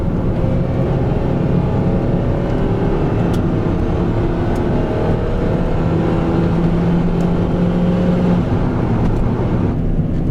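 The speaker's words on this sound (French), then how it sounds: "cette voiture elle a un petit moteur Suzuki qui peut monter très haut dans les tours" A small Suzuki car engine revs hard and high, a loud, steady sustained drone close by with faint tonal whine rising through the mix, no talking.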